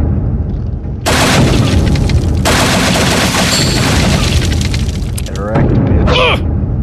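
Shooting and explosions in the video game Happy Wheels come as loud, dense bursts of gunfire and booms, broken by short swooping effects near the end, with a voice talking over them.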